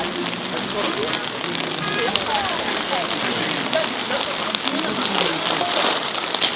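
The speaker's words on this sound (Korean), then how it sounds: "비가 왜 이렇게 오는 거야?" Heavy rain pours on a camping tarp during a storm with gusting wind, a dense, steady hiss of drops drumming close by, with voices talking under it.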